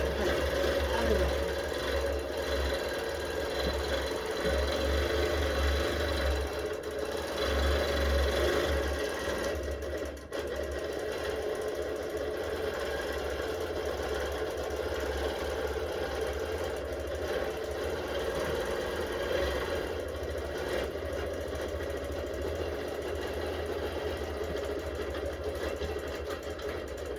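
A longarm quilting machine stitching a kawandi quilt, a steady mechanical hum and rapid needle chatter running continuously and fairly close throughout.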